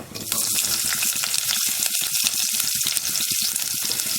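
Shallots drop into hot oil already crackling with cumin, fennel and a few black peppercorns, raising a loud, dense, continuous sizzle that fills the whole moment up close, with no voices.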